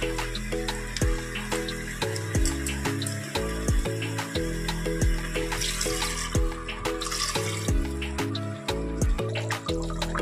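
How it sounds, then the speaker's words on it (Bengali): Spice-rinsing water poured into a pot of chicken liver and stomach curry, a steady close splash and trickle running throughout with repeated pulsing surges, no talk. "আমি এই মশলা ধোয়া জলটা দিয়ে দিচ্ছি।"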